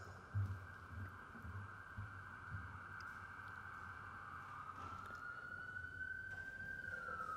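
An ambulance siren outside wails as a sustained, steady tone that bends and rises near the end as it passes, faint and distant over a low hum, with no talking.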